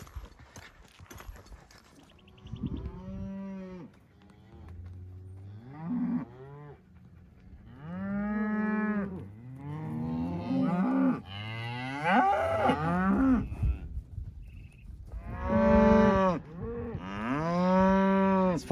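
Several cattle moo loudly and close by during shipping from a pasture, long low calls one after another with short pauses, some overlapping, and faint hoof clatter between them.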